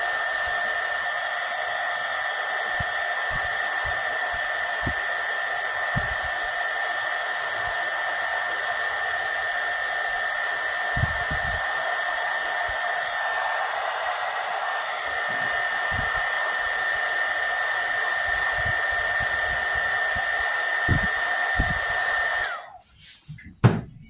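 A heat gun blows a steady, loud whooshing hiss with a high whine while heating poly hose, holding constant for about twenty seconds before cutting off abruptly, with faint knocks underneath and no talking.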